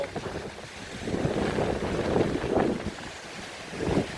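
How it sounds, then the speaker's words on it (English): Gusty wind roars and buffets the microphone in uneven surges at Wentworth Woodhouse stately home, with a low rumbling wash underneath and no voices. "It's very windy."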